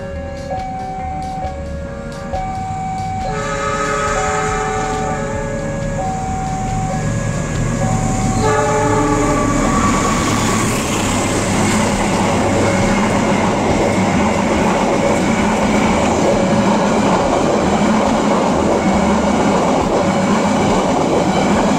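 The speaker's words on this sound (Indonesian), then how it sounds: "telah melintas langsung kereta api lokal Bandung Raya di stasiun Andir dengan tujuan akhir stasiun Cicalengka" A local Bandung Raya commuter train passes straight through Andir station in Bandung, starting with a two-tone horn melody, then building into a loud, steady rumble and clatter of wagons rolling close by.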